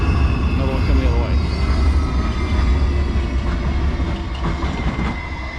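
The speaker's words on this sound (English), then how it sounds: "just trams, which you're going to see go past" Trams rumble across a car-free bridge in Bratislava, a loud, steady low roar with rail squeal and clatter passing close by throughout.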